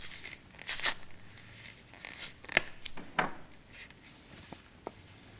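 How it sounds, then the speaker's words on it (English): Masking tape is torn and wrapped around a fishing rod blank during rod building, with a few short, sharp ripping sounds and softer rubbing in between, close and fairly quiet, with no talking. "we're going to fill up the space with tape, masking tape like this"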